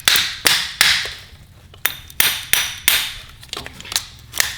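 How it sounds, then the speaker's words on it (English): Sharp metallic hammer or wrench strikes on a relay of a $200 off-road go-kart, about a dozen close, loud taps in an uneven rhythm with brief ringing decay between blows. "Now he's hitting with a hammer or a wrench."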